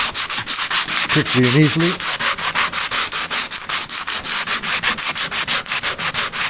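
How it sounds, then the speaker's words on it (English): A 1976 BMW 2002's body is hand-sanded with 40-grit paper on a foam block, giving loud, close, rhythmic back-and-forth scraping strokes throughout, with a brief voice near the start. "This is my little hand sander, like it's a foam block, and that's what, 40 grit or something on there."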